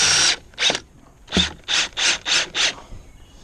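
A ratcheting hand tool secures a deck rail to a deck post outdoors, making seven short, loud clicking bursts in an uneven rhythm with brief pauses between them.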